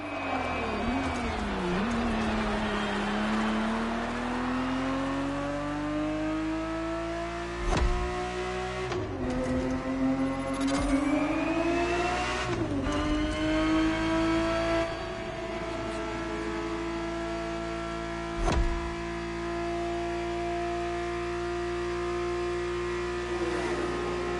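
A Ferrari 365 GTB4 engine in The Crew Motorfest, droning loud and continuous with rising and falling revs through gear shifts, plus a few sharp knocks along the way.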